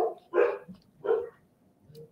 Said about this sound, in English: they know it's almost one. Start barking.